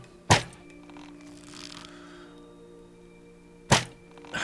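A Minecraft pillager fires arrows: two sharp, loud thunks about three seconds apart stand out over a quiet, steady in-game background.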